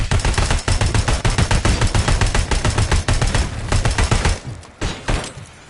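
Rapid bursts of gunfire from RoboCop: Rogue City, loud and dense, with fast repeated shots nearly continuous for several seconds and only short breaks near the end.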